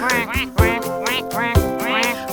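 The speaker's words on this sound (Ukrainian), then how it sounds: "Качка ках." Two loud, nasal duck quacks in a Ukrainian children's song, close and clear, each drawn out with a raspy tone, spaced about a second apart.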